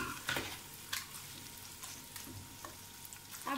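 Chicken pieces fry with garlic in a pan, giving a quiet, steady sizzle broken by a few soft scrapes and clinks of stirring; no voices.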